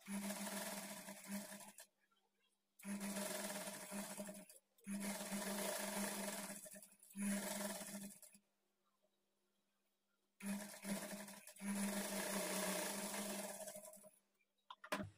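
A sewing machine runs in repeated bursts while stitching a blouse waistband, each burst several seconds long and broken by short silent gaps, close and clear.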